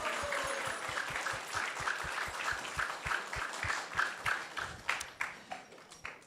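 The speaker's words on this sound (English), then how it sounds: "So give them a big round of applause." Hands clap in a steady, distinct rhythm in a temple gathering, each clap clear and fairly close, with a few other hands joining more faintly; the level stays moderate and no one speaks.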